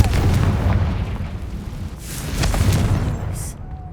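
In the video game Hogwarts Legacy, a Confringo blasting spell explodes as a heavy, rumbling boom that rolls on loudly and steadily for several seconds, with fainter crackles near the end.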